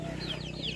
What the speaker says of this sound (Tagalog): Yan, yan yung mga native chicken.